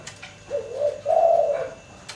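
A grey tekukur spotted dove coos softly nearby, giving a short call and then a longer rolling coo, with faint ambient noise around it.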